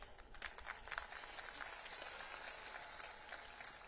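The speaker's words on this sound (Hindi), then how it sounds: "तालियों की गड़गड़ाहट से" Crowd applause at a BJP public meeting addressed by party president JP Nadda in Fatehpur, a steady dense wash of many hands clapping throughout, moderately loud and continuous with no voice over it.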